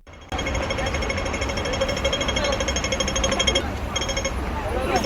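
A loud, rapid electronic ticking buzzes continuously over heavy street noise in Hong Kong, the fast mechanical rattle of a pedestrian crossing signal.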